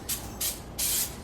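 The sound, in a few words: zero calorie cooking spray sprayed into a pan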